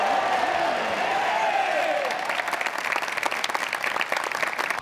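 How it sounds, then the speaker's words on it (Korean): Spectators in the stands of a national sports festival men's kendo match at a high school gym cheer and applaud loudly after a successful strike, a sustained crowd roar that breaks into dense clapping. "매섭게 파고든 공격이 성공하자 관중석에서 환호가 울립니다."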